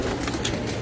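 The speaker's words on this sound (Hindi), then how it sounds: "ये मेरा सुलारा कबूतर है जी माशाल्लाह।" A pet pigeon coos softly on a rooftop loft, a low throaty burbling repeated in quick succession, close and clear without any talking over it.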